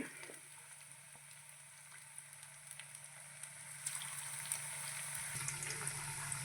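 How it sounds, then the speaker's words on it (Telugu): Fish pieces deep-fry in hot oil, a soft, even sizzle that is faint and steady throughout, with small crackles here and there. "ఆయిల్ కూడా వేడెక్కింది. ఓకే, ఒక్కో ముక్కని ఈ విధంగా మనం వేసుకుందాము. బాగా వేయించేసుకుందామండి."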